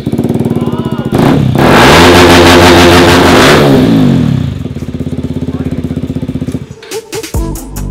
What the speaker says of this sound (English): We tuned the exhaust so it's really loud.